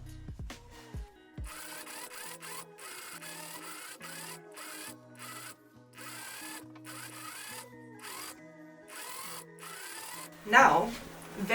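A sewing machine stitches the seams of a backless gown, running in several bursts of rapid mechanical whirring separated by short stops. A louder rustle of handled fabric comes near the end.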